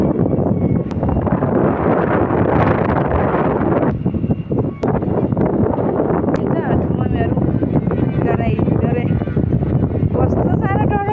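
Strong wind roars steadily across the microphone outdoors, a dense continuous buffeting that stays loud throughout, with voices faintly audible beneath the gusts.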